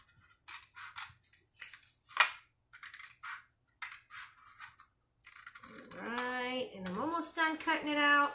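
Scissors snip out a paper potato shape for a kids' craft, a quick series of crisp, close cuts in an uneven rhythm, followed by a person talking.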